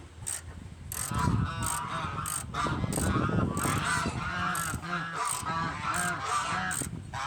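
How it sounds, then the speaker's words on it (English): Geese honking loudly and repeatedly at close range in a rapid, overlapping series of calls, with some faint mechanical noise in the background. "Geese, I see you had to come visit us."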